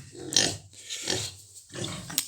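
Piglets squeal in sharp, shrill bursts, three loud close cries during vaccination on a pig farm in winter, with no talking.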